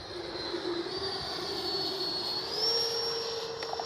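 A Freewing 90mm Zeus RC jet at half throttle produces a steady electric ducted-fan whine that rises slightly in pitch, heard continuously at moderate distance with no speech.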